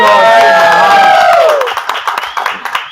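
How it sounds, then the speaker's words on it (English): Cheering voices and a crowd swell into scattered clapping that thins out toward the end. "let's now give a round of applause"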